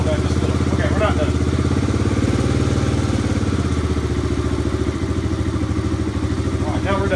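Honda ATC 250ES three-wheeler fitted with a clone carburetor, its engine idling with a close, steady putter whose pace drops slightly partway through as the idle is brought down.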